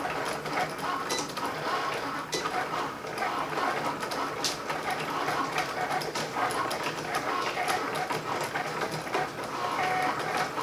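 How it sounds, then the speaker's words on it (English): Cricut Maker and Cricut Air 2 cutting machines cutting glitter vinyl side by side, a continuous close mechanical whirring with rapid rhythmic ticks and motor buzz that carries on for the whole stretch. "So I'm going to go ahead and press cut on both machines."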